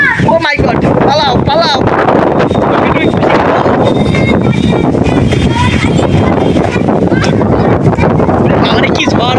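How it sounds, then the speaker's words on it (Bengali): A strong stormy wind buffets the microphone in a continuous loud roar throughout, with a person shouting excitedly over it at the start and later. "আমারে কি ঝড় বাতাস হচ্ছে দেখুন গাইস"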